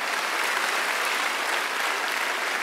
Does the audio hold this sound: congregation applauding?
yes